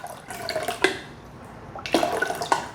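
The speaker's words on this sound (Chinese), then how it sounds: "锅内放入1500cc 的水" Water poured into the pot of a Greenis cooking machine, a soft, uneven splashing and trickling in two short bursts, close and fairly quiet.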